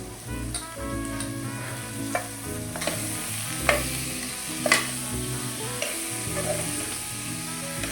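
Potato, carrot and peas sauté in a pan for a soybean veg pulao, a soft, fairly faint sizzle punctuated by spatula scrapes and taps over a low steady tonal background.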